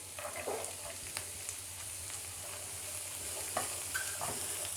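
Carrot pieces and curry leaves fry in a pan for street-style onion samosa filling, a steady soft sizzle with occasional scraping stir clicks, close and continuous with no talk.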